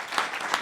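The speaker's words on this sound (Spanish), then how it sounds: "quiero antes pedir un aplauso para don Luis" Applause from an audience at an academy induction ceremony, honoring a newly admitted member; a brief stretch of steady clapping with no voices.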